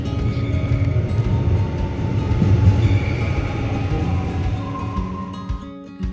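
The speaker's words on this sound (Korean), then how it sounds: "동해선 전철을 타고 울산 태화강역까지 갔다 왔습니다." Riding aboard a Donghae Line commuter train toward Taehwagang Station in Ulsan, a loud steady rumble of wheels and motors fills the carriage, easing off slightly near the end.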